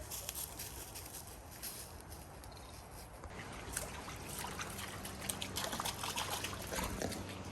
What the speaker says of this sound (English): Kind of cooling the dogs off right now in the creek.